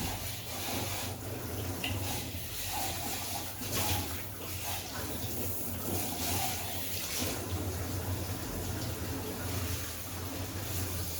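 Water running steadily from a tap while grooming tools are rinsed after use, a continuous close splashing hiss.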